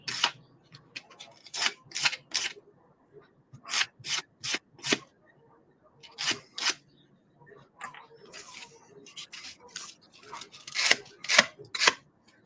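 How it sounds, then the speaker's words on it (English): Sandpaper lightly scuffs the edges of a plastic SCX24 Basecamp hard body in short, repeated rasping strokes, close and fairly quiet, in irregular bursts with brief pauses. "Just give edges just a light dust with a little bit of sandpaper"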